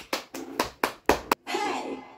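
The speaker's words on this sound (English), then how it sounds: "let's give a round of applause for Riley" A small audience at a family kids' fight show claps for a performer's ring entrance: five or six sharp, separate claps, then a longer, rougher burst of clapping.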